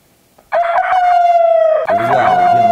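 A rooster crows loudly and close, a single long call that breaks briefly and then carries on, after a moment of quiet.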